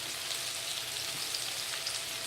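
Fish deep-frying in oil for crispy fish and chips gives a steady, dense sizzle and crackle that holds evenly throughout, with no voices.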